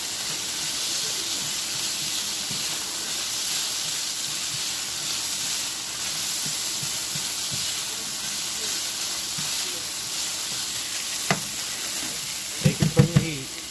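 Food sizzling and hissing in a pan on a stove with the heat switched off, steady soft frying noise with a faint voice, ending in a few sharp utensil clinks and scrapes.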